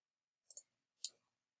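A computer mouse gives a quick double click, then a single click half a second later, crisp and close against silence.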